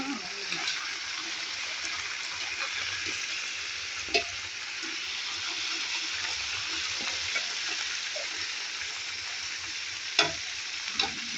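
Food stir-fries in a pan with a continuous loud sizzle and a few sharp clinks of utensils, while voices talk faintly underneath.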